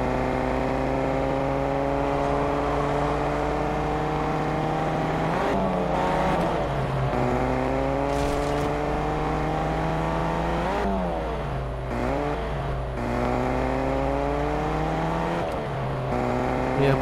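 A car engine hums and revs as it drives in Fortnite Chapter 2 Season 3, with a loud, continuous drone that rises and falls through gear shifts and no one talking.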